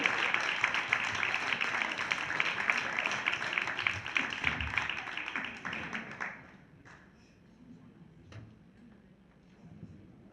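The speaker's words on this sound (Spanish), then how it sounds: "Y un aplauso a su marido" An audience applauds indoors, fairly quietly, the dense clapping running for about six seconds before fading out into a low room hush with a few stray sounds.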